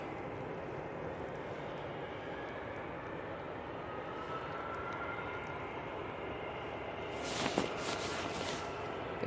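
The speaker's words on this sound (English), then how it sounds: "Sounds like the BizJet spooling up." A business jet's engines spool up at Manchester Airport, a faint, distant steady roar under a low ambient hum, with a brief sharper rustle near the end.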